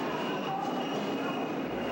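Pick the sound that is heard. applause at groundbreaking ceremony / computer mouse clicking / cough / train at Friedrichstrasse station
train at Friedrichstrasse station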